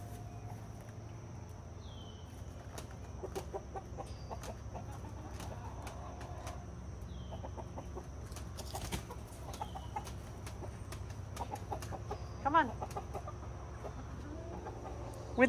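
Chickens cluck and a rooster sounds beside a coop outdoors, scattered calls coming through a steady low rumble of background noise, with a sharper squawk near the end.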